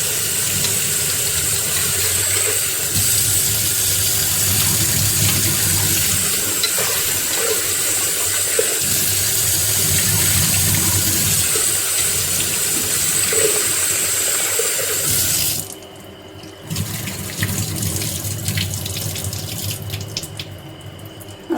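Lentils being washed in a pressure cooker under a running kitchen tap, heard as a steady, close stream of splashing water that shifts and thins near the end, with no one speaking.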